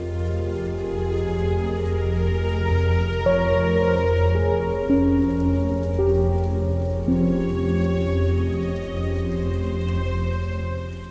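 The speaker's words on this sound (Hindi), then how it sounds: "ये बारिश कब रुकेगी?" Steady rain pours down throughout, a continuous wash of drops beneath a sustained musical score, with no talking.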